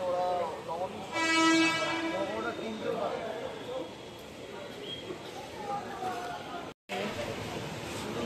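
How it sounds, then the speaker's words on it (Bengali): A Gede local train arrives at a station near Kalyani Simanta, its horn sounding in a long stepped blast early on before rumbling wheels continue under nearby conversation. "এদিকে একটা ট্রেন চলে এসছে,"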